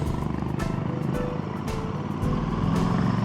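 Continuous engine and road noise from passing motor vehicles in heavy morning traffic near Lonavala, a steady rumbling traffic hum with occasional louder passes close by.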